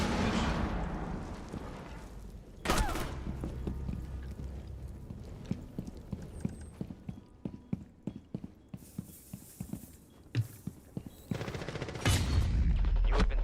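Grenade blasts in a Rainbow Six Siege professional match: a loud broadband boom early on and another near the end, with rapid gunfire clicks and rattling game effects filling the gaps between them.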